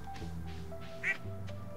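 Ducks quack in the farming video game Stardew Valley, one clear, brief quack rising over quiet game music and soft ambient tones.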